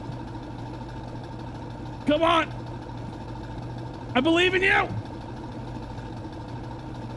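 A Toyota truck engine idles steadily on a rocky off-road trail, a constant low rumble running through the whole stretch while a voice calls out encouragement twice over it.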